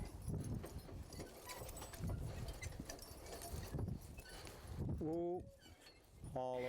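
Hooves clip-clop at a slow walking pace as horses are maneuvered on a ranch after unhitching a sled, amid outdoor rustle and a murmuring voice, with a horse's brief whinny-like call near the end.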